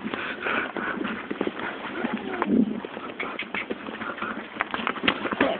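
Donkey hooves clip-clop along a stone path at Petra, Jordan, in a steady close rhythm, with birds cooing and chirping in the background.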